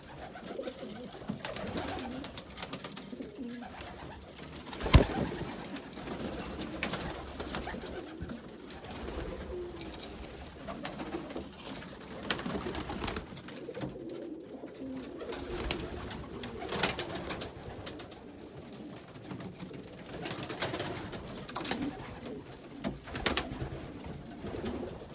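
Pigeons in a freshly cleaned loft coo softly and repeatedly through the whole stretch, with rustling, shuffling and occasional wing movement, plus one sharp knock partway through.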